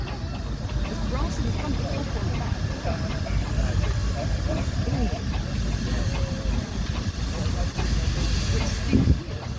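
A 1919 steam showman's tractor hisses continuously at a steam show, a loud, rough, steady rush of steam over a low rumble, with faint voices and crowd noise behind it.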